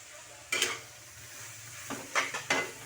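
A metal lid clatters onto a cooking pot of Filipino chicken tinola, one knock early and then a cluster of three quick clanks, close and moderately loud over a low steady hiss.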